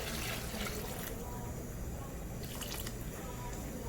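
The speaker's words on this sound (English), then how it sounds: "I'm gonna add some water" Water pours and splashes into a pan of chicken chili sauce in a home kitchen, a short steady liquid trickle heard up close.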